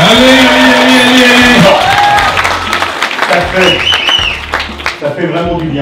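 Audience applause and cheering at an evening political meeting in the Salle Barbara, Saint-Ouen, loud and sustained, with whoops and voices calling out over the clapping throughout.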